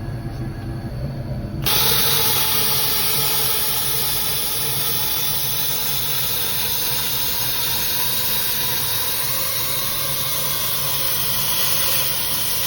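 A plasma cutter slices through metal on a 1946 Chevy during a Cummins engine swap, starting with a jump into a loud, steady hiss that holds unbroken close by.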